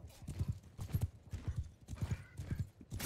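Clip-clop of a horse's hooves in a strategy video game, a quick irregular gallop of soft thudding steps, fairly quiet, with no talk over it.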